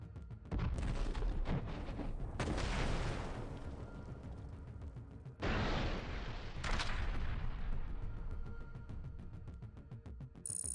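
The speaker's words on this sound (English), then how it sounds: "Objective monitoring of artillery fire by the Dnipro military group targeting the gathering of Ukrainian forces in Kherson" Artillery fire from a Dnipro military group striking a gathering of Ukrainian forces in Kherson, heard as two long, loud, roaring blast-and-rumble bursts with sustained low rumble between them and no talk.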